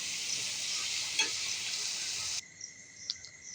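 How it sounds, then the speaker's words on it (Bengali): Cumin, coriander and chili spice paste sizzling in oil in a pan, a steady close hiss with a brief stir, dropping off sharply partway through to a fainter crackle. "মশলাটা ভালো করে কষিয়ে নেব"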